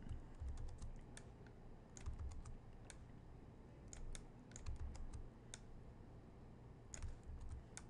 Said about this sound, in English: I'm using keyboard shortcuts to place them nicely